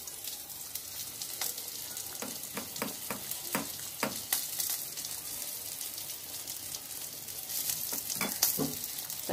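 Dhoka frying in a pan with ghee and garam masala: a constant close sizzle runs throughout, broken by sharp clicks and scrapes of a spoon stirring, with no talking.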